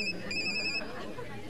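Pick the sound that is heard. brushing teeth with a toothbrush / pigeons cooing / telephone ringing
telephone ringing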